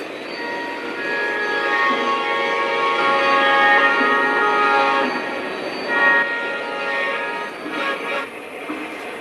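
Three Lionel and MTH model trains run together on a Conrail-themed home layout main line, a steady whirring rumble of motors and wheels with sustained tonal whining, swelling and fading a little as the locomotives pass.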